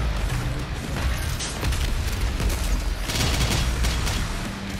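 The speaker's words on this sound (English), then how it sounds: "That fired miniature nuclear bomb" In Doom: The Dark Ages, a miniature nuclear bomb weapon detonates amid dense game combat, a loud rolling boom and crackling roar that swells again midway and stays heavy throughout.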